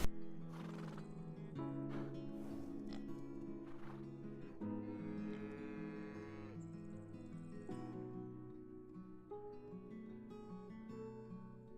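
Repeated video game horse whinnies and neighs ring out over soft hoof clip-clops and a faint insect-like chirping background, with no one speaking.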